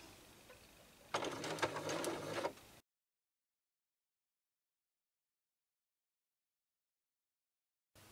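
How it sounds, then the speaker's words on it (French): A sewing machine runs a zigzag stitch around a fabric heart for a travel sleep mask, a close, steady mechanical whir lasting under two seconds before stopping, with no talking. "Réglez votre point de machine point zigzag pour faire tout le tour."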